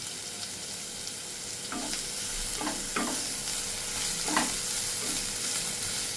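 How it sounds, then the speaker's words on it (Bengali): Chopped onion frying in hot oil gives a continuous bright sizzle, with a few scraping stirs of a utensil in the pan rising over the steady hiss. "তেল গরম হয়ে গেছে, এর মধ্যে কুচানো পেঁয়াজটা দিয়ে দেবো।"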